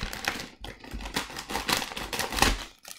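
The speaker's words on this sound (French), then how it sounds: "Alors, avec les ciseaux." Close, crisp snips and rustling as scissors cut open a stiff foil trading-card starter pack, which crinkles, several quick irregular cuts in a short burst.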